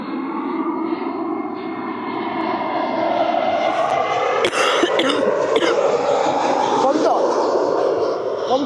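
At an airport, an airplane takes off and its engine roar rumbles steadily and builds across the whole stretch. Speech and a cough sit over the continuous noise.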